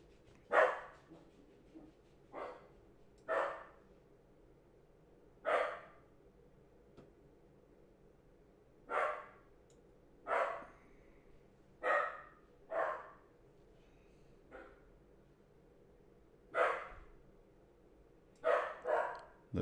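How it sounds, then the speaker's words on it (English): A dog barks again and again at a distance, single sharp woofs and short pairs spaced irregularly, some a few seconds apart, over a quiet indoor background with no talk. "The dog is just on a bark mission."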